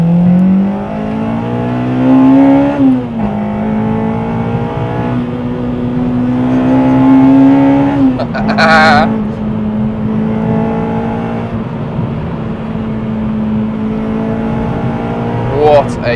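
A car accelerating hard along a twisty test road, its engine note climbing in steady rising sweeps, dropping at gear changes, then pulling again, loud and close with tire and wind noise throughout.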